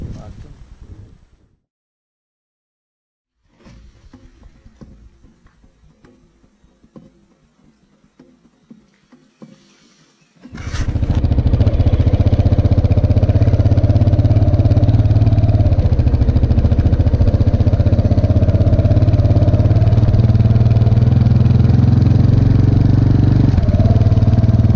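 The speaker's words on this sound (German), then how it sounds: "Der Motor geht ja echt wie Hölle." A motorcycle engine roars loudly and steadily for the latter half, after quieter rustling and faint sounds earlier.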